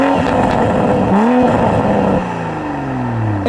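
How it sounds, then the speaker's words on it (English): Exhaust note of a 2021 Toyota Supra in sport mode, loud and close, rising and falling through revs with rough burbling before settling into a lower steady drone. "one important change you do get in sport mode is to the exhaust note"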